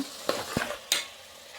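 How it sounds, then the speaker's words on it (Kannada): Tomatoes frying in a pan for tomato rice bath, heard as a brief quiet sizzle with three sharp spatula taps and scrapes. "ಟೊಮೆಟೊ ಹಾಕ್ಬಿಟ್ಟು ಚೆನ್ನಾಗಿ ಫ್ರೈ ಮಾಡ್ಕೊಳ್ಳಿ"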